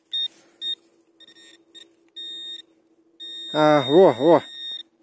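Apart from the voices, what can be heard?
metal detector beeping signal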